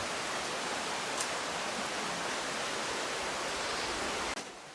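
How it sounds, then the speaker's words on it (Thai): A waterfall in front of a cave pours out a steady, loud, broadband rush that holds unchanged for several seconds before dipping slightly at the end. "ถึงน้ำตกด้านหน้าถ้ำแล้ว"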